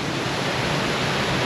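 Waterfall at Gunlock Falls, a steady, full-bodied roar of falling water that stays close and constant throughout, with no voices.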